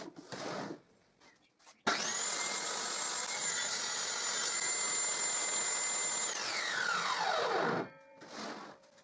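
A table saw with a jig slices along the edge of a wooden board: a loud, steady high whine holds for about six seconds, then winds down as the blade slows, with workshop noise before and after.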